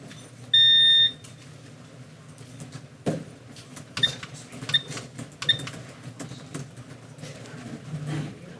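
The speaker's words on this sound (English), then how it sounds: "I hate that 3-minute buzzer" A speaker timer at a school board meeting gives a short electronic beep-buzz near the start, then a few fainter beeps follow over room rustle and knocks in a large hall.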